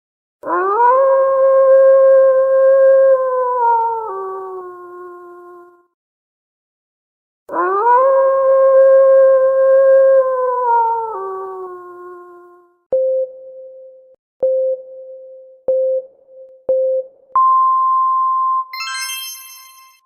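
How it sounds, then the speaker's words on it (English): Two long, mournful wolf howls, each sustained for several seconds and tapering off, then a run of short electronic beeps. "Wolves howl to communicate with their pack across long distances."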